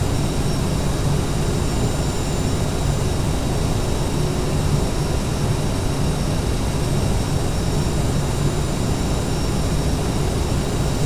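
Aerosoft CRJ jet engines in a flight simulator on a flight from Denver to Hays: a loud, steady roar with a continuous high whine and no voices over it.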